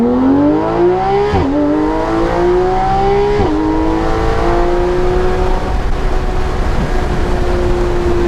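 A Porsche 911 GT3 RS engine revs loudly with induction noise, its pitch climbing and dropping in a few sharp blips before settling into a rising, sustained drone.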